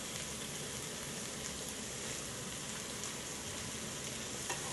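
Thin steak cooking in a pan, a steady, even sizzle that holds at the same level throughout, close by and without speech.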